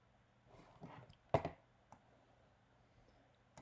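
A computer mouse double-clicks, faint and close: a quick pair of sharp clicks followed by a couple of lighter isolated clicks in an otherwise quiet room.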